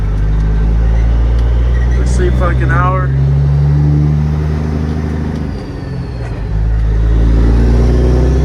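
A semi truck cruises toward a truck stop in Rock Springs, Wyoming, its steady low engine drone and road rumble filling the cab while a voice talks over it, dipping briefly before the hum resumes.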